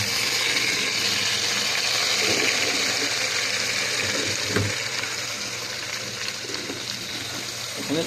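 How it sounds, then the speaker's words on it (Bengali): Sliced papaya frying in oil in a pan, a dense continuous sizzle and hiss at moderate level, steady throughout with no talking. "তেলের মধ্যে একটু কষাই নেব"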